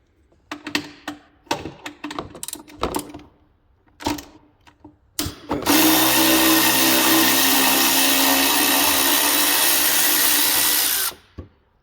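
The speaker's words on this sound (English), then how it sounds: "Okay, we're gonna go with a long reach 40 Torx here" A power driver fitted with a long-reach T40 Torx bit works on a 2020 Polaris XCR 850 snowmobile, preceded by several short clicks and taps, then one continuous loud whirring run of about five seconds, close up.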